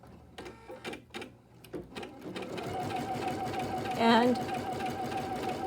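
A sewing machine stitching a tack-down stitch on a gnome table topper. Brief clicks and short starts give way to a steady, rapid mechanical chatter with a whine near the end, and a voice speaks briefly at the start.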